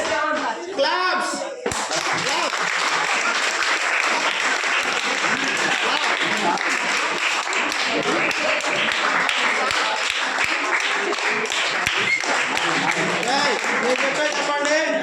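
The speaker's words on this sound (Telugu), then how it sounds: "క్లాప్స్" Students at a high school Ramanujan birthday math celebration clap together in sustained, dense applause that stays loud and even throughout, after a brief moment of voices at the start.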